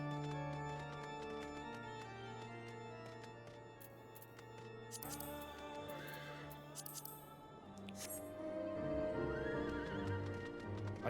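In a game, a horse mount from Final Fantasy XIV neighs and whinnies over clip-clopping hooves while orchestral boss-theme music plays steadily underneath, the neighs rising clearly above the score.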